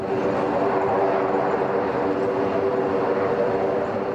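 A C-130 Hercules transport aircraft flying at the RIAT airshow in 2004: a steady, droning propeller roar holds at an even level throughout, moderately distant and without voices.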